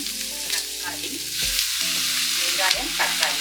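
Chopped onions and tomatoes frying together in a small kadai, a close, continuous sizzle broken by spatula stirs and scrapes against the metal, with no talking.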